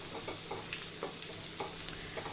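Drumstick leaves frying in a hot kadai, a dense continuous close sizzle with soft crackling pops and light stirring, no talk.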